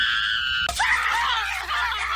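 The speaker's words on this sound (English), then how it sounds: "whenever anyone says the secret word, scream real loud" A crowd of people screaming loudly together on cue after a secret word, a sudden sustained burst of shrieking voices that cuts in after a short tone and holds to the end.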